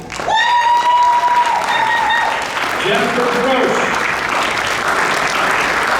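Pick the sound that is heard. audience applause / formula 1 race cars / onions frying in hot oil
audience applause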